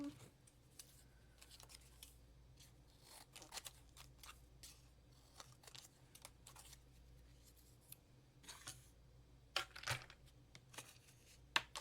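Faint, close snips and crinkles of scissors cutting through metallic foil for a craft tag, a scattered series of small cuts and rustles over a quiet room tone.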